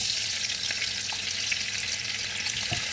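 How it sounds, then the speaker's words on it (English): Onions frying in a little leftover meat oil for coconut rice, giving a continuous dense sizzle with faint stirring scrapes, close and steady with no voices. "Here is the oil I used to fry meat. It's a little oil. So we add in the onions."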